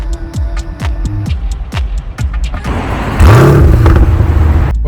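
A 2022 Chevrolet Corvette C8 StingRay driving around a parking lot, its engine throbbing with a series of rapid rev blips and pops before a loud, sustained acceleration surge with a rising engine tone, close and without talk.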